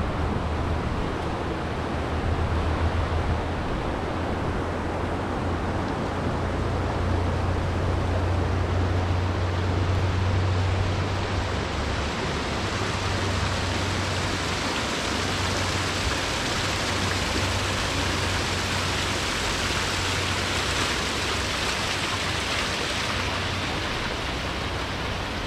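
Rain falls heavily and steadily after a hailstorm, a dense, even hiss that fills the whole stretch without pause, with a low rumble underneath and no voices.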